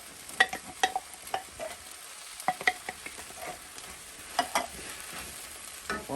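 Rotel tomatoes being stirred into sautéed fajita vegetables on a cookie sheet, with quiet scraping and soft stirring clicks at irregular intervals over a faint background sizzle, close up with no talk.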